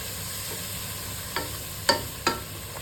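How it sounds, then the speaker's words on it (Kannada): Spice masala fries in a pan for an aloo capsicum curry, giving a soft, steady sizzle with three sharp spoon clacks against the pan. "ಮಸಾಲೆ ಕೂಡ ಫ್ರೈ ಆಗ್ತಾ ಬಂತೀಗ"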